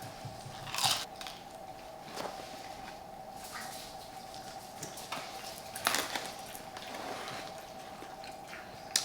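Someone eats a crunchy snack close up, with a few distinct crisp bites and crunches spaced out over quiet background, plus faint clinks of dishes.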